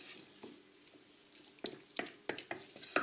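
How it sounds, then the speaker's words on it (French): Onions softening over low heat in a pan, a faint soft sizzle under a handful of sharp clicks and scrapes from stirring, growing busier toward the end. "C'est juste histoire de compoter un petit peu l'ensemble et de commencer à cuire un petit peu les oignons."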